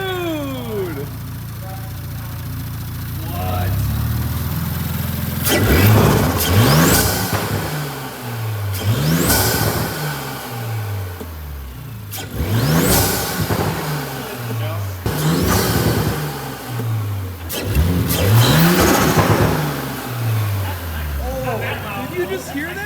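A B9 Audi S5 fitted with a 034 Motorsport P34 cold air intake revs hard several times in a row, each rev rising and falling loudly up close, with excited voices talking between the blips.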